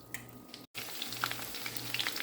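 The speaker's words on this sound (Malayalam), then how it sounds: "ഇനി നമുക്കത് രണ്ട് സൈഡും ഒന്ന് നന്നായിട്ട് മൊരിയിച്ച് വറുത്തെടുക്കാം." Chicken pieces shallow-frying in hot oil for chilli chicken, a soft continuous sizzle with scattered pops and crackles close by, broken by one brief moment of silence.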